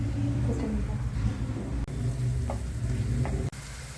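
Chopped onions frying in oil in a pan for an egg masala curry, a steady, close sizzle with a few soft clinks of stirring, and no talk.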